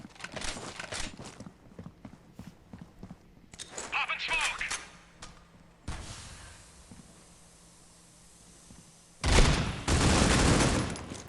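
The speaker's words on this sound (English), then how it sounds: "firing a volley of shots, not connecting anybody." Bursts of automatic gunfire from a Critical Ops mobile shooter match during an eSports tournament, with scattered shots early on and a loud sustained volley near the end, heard alongside commentary.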